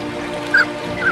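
A mandarin duck in the Siberian boreal forest gives two short honking calls, the first louder, over a quiet low background.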